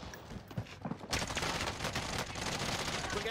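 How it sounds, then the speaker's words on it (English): Rapid gunfire rattles in an online shooter game, a dense continuous burst of shots close and loud after a brief lower stretch at the start. "We're getting shot from the right."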